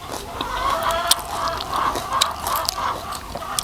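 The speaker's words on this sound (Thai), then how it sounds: "ฟังเสียงไก่" Farmyard chickens cluck in a steady, repeated pattern at close to moderate range, with sharper clucks punctuating a continuous background murmur of hens and no speech.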